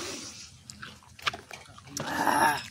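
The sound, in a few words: dog drinking water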